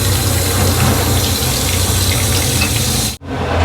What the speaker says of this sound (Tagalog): Lagyan mo ng konti tubig.